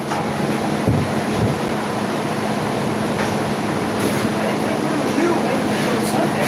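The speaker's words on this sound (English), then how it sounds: "It is definitely raining." Steady rain falls outdoors while a yellow Dodge's roof is being primed, a constant close hiss with a low rumble underneath and occasional faint bumps.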